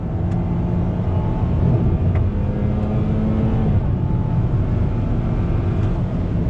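A 2021 Toyota Corolla with a CVT accelerating on throttle, heard from inside as a steady, loud engine drone with faint stepped pitch changes from simulated shifts and road rumble underneath.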